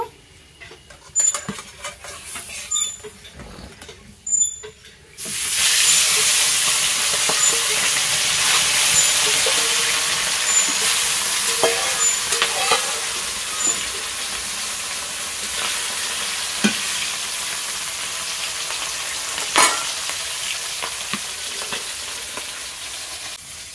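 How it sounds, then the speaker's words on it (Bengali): Rohu fish pieces fry in hot oil. After a few quiet seconds of scattered clatter, a loud, dense sizzle and hiss starts and holds steady, broken by occasional sharp pops and utensil knocks. "বাকি মাছগুলো ভেজে নেব।"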